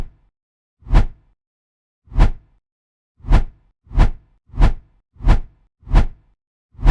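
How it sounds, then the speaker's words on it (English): Swoosh transition sound effects repeat eight times, each a short, loud, close whoosh rising and falling, spaced roughly once a second with silence between and no talk. "So let's say we have a simple swoosh sound effect for a transition."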